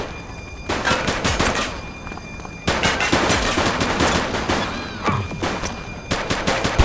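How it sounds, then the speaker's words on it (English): Rapid bursts of gunfire in The Precinct police video game, loud and close, with sharp repeated shots and short pauses between volleys, sounding like automatic weapons. "He's shooting!"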